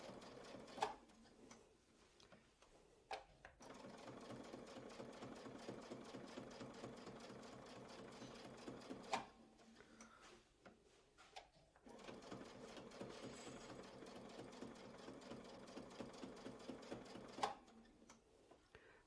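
A sewing machine stitches circles into a quilt sandwich in a long run of rapid, even needle strokes, pausing twice briefly before restarting, with small clicks at each stop; no one speaks.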